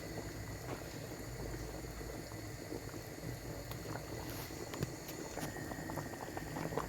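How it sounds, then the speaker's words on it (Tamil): Steady bubbling and simmering of a pot of Jaffna-style fish curry with eggplant on the boil, a continuous close, busy patter of small bursts with no talking. "தகண்டு கொதிக்குது கறி"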